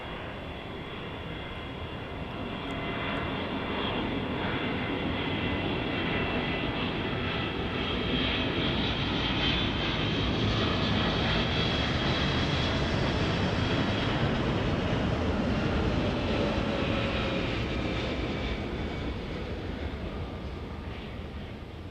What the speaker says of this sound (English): Either way, we have an arrival. It's a heavy arrival. It's going to be United Airlines flight 1368 from Denver,